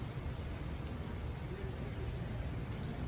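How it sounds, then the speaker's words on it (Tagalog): Steady rain falls on a home garden after a hot day, a continuous broadband hiss of drops on leaves and surfaces, close and even throughout with no pauses. "Umuulan na naman."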